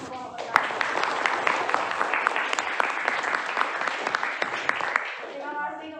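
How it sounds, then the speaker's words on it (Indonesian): A classroom of students applauds the first group after its presentation, dense steady clapping from the room lasting several seconds before it tapers off at the end. "Tepuk tangan untuk kelompok pertama."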